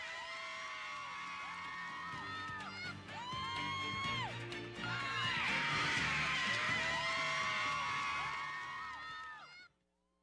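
High school football fans in the stands at Vanceboro cheer and whoop loudly over a steady crowd roar, with shouts and whistles rising to a peak midway before fading at the end.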